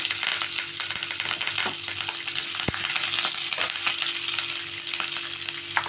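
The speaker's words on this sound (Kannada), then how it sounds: "ಎಲ್ಲ ಸ್ವಲ್ಪ ಎಣ್ಣೆಯಲ್ಲಿ ಫ್ರೈ ಮಾಡ್ಕೋಬೇಕು ನೋಡಿ" Chopped onions, curry leaves and green chillies fry in oil over mustard and cumin seeds for a North Karnataka chana dal palya, making a loud, dense, continuous sizzle with occasional spatula knocks and no speech.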